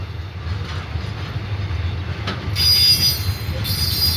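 A freight stone train rumbles past nearby at Bang Sue, Thailand, with a low steady roar, and high metallic wheel squeals on the rails cut in loudly partway through.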